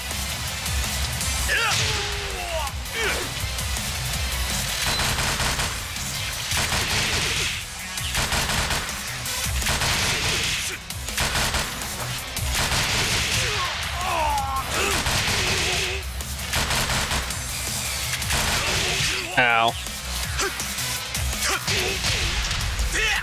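Loud, dense video-game gunfire from Tekken 7 rattles almost without a break in rapid bursts, with a player talking over it throughout.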